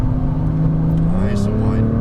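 A Nissan GT-R engine revs hard under acceleration on track, a loud sustained drone climbing steadily in pitch for about two seconds, close and dominant.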